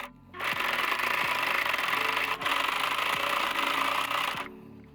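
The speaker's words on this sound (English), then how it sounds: "I lock in those seams by serging the edges" A serger overlocks the seam edges of a sweatshirt, one steady loud mechanical whir with a quick rhythmic chatter running for about four seconds. It pauses briefly at the midpoint, then stops, and no one speaks.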